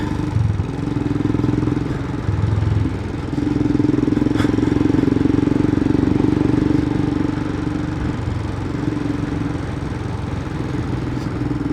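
Royal Enfield Himalayan 411 motorcycle on a road test after a valve replacement, its steady single-cylinder engine drone loud and close throughout, briefly dipping and rising as the throttle shifts.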